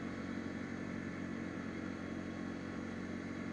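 2020 Suzuki SV650X motorcycle cruising at night, a steady, even engine drone with dense road and wind noise and no change in pitch or talking.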